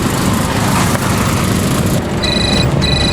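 A telephone rings in an urgent electronic trill that starts about two seconds in, in two bursts, over a loud, steady broadband wash of background noise.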